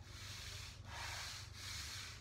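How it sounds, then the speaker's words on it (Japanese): Hand sanding with 120-grit sandpaper or a file, three long continuous rasping strokes close up, each separated by a brief pause, loud and alone with no talk. "ヤスリをかけますね。"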